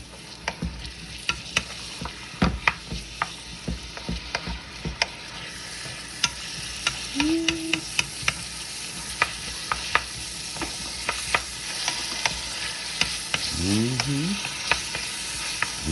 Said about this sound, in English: Let that saute a little.